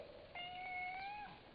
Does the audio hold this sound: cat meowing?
yes